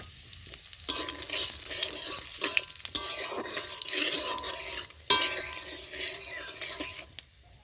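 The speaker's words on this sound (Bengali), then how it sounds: "তো তেলটা গরম হয়েছে, তেলের মধ্যে আমি দিচ্ছি ফোড়নে দুটো শুকনো লঙ্কা" Two dried red chillies, a bay leaf and white cumin hit hot white oil for a tempering, giving a sudden loud sizzle burst that crackles steadily, then a second sharp burst with light clinks of utensils.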